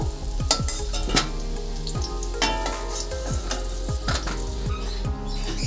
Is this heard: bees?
no